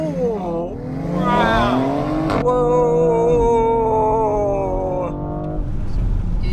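A BMW X3 M Competition SUV launches hard from a standstill and accelerates. The engine note climbs loudly and close through a rising, buzzing rev with a shift partway through, then settles into a strong sustained drone.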